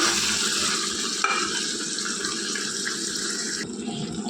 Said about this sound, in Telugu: ఇప్పుడు ఈ మసాలా కూడా కర్రీతో పాటు బాగా ఫ్రై అవ్వాలి